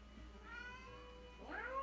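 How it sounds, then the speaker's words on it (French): A cat gives two faint, drawn-out meows, the second rising and longer, against a quiet background. "Qui miaule?"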